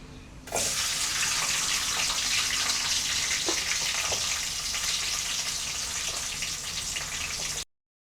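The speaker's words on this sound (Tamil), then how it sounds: "இப்போ வெங்காயத்தை போட்டுக்கலாம்" Onions going into hot oil for Chettinad brinjal curry give a steady, loud broadband sizzle that starts abruptly and holds without a break. A few soft clicks sound under it and no one speaks.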